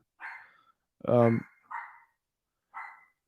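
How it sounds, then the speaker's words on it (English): Several sharp dog barks, close and loud, ring out in short separate bursts with quiet gaps between them, heard during a home live stream. "Dogs barking."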